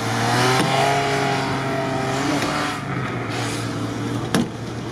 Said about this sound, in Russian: Топовый внедорожник